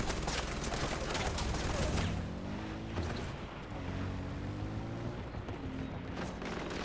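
Rapid bursts of video game gunfire fill a dense, noisy battle mix, with steady loud shooting first and tonal engine-like hums layered underneath later on.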